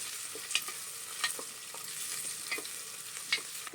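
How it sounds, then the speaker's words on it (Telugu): Onion pieces and green chillies fry lightly in oil for veg biryani, giving a soft, continuous sizzle broken by a few stirring scrapes and clinks, no talk. "ఇప్పుడు ఉల్లిపాయ ముక్కలు వేస్తున్నాను. పచ్చిమిర్చి వేసాను."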